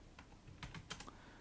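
A few quiet keystrokes on a computer keyboard for a Ctrl+F shortcut, two or three soft clicks in quick succession against a faint background hiss.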